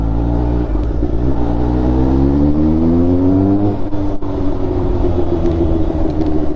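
A Kawasaki Ninja H2 motorcycle in third gear revs loud and close, its engine tone rising steadily, dropping after a shift, then holding a deep sustained roar with no talk.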